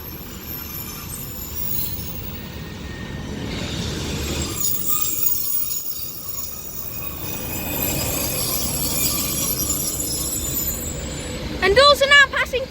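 Class 156 diesel multiple unit arriving at Levenshulme station on the Manchester branch, a steady low rumble and wheel noise building at moderate distance, with brief squeals and rattles near the end.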